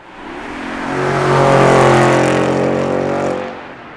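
A 2013 Porsche Cayenne GTS engine and exhaust, with exhaust baffles opened, swell loudly as it accelerates, the throaty roar rising in pitch, then easing off near the end.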